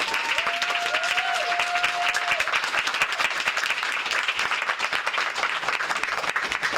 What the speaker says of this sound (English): Let's clap it up for the great mother of this land